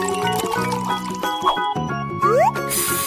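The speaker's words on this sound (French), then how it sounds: "il ne reste plus qu'à tout verser dans la machine et mélanger" A food mixture is poured into a blender, giving close liquid splashing, dripping and squishing sounds over a steady background of music-like tones.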